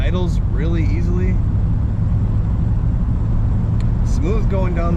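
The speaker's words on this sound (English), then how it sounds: "This car starts and idles really easily." The engine of a 1941 Cadillac Series 60 Special Fleetwood idles with a steady low rumble, while someone talks over it at the start and again near the end.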